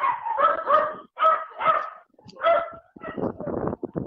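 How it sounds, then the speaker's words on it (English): Several dogs barking in the background at a ranch, a string of sharp barks and yips in uneven bursts, moderately near and fairly loud, with no speech over them. "I got dogs barking in the background."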